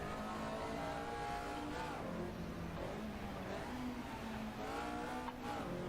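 A 4A engine in a Horizon racing video game revs hard and continuously, its rising and falling harmonic whine loud and aggressive with some tyre squeal mixed in.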